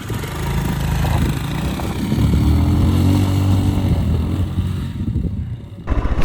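A 110cc motorcycle engine strains and revs on a sandy trail in La Rioja, growling steadily up close, with a sustained louder push in the middle before it drops off near the end.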